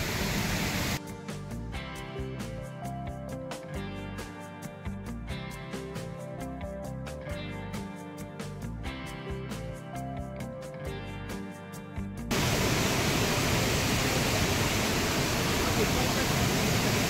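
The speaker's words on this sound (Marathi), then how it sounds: "वॉटरफॉल." A jungle waterfall gives a steady, loud broadband rush once music stops near the end, continuing unbroken to the close.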